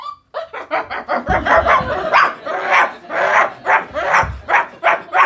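A person mimics a small dog with a rapid string of short, yappy barks and panting sounds, loud and close, continuing in an uneven rhythm for about five seconds.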